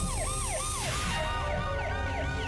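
A police siren wails in an animated low-budget knock-off of Disney's Cars, its rising and falling tones loud and continuous, overlapping with a second siren pattern partway through, and no voices.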